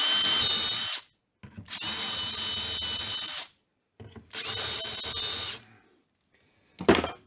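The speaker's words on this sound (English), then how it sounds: "I'll just run a drill through these" A power drill whirs close by in three sustained bursts separated by short pauses, then one brief final burst, drilling holes through wood.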